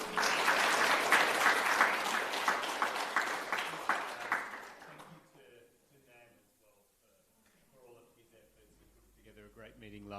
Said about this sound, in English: So a round of applause for Nam.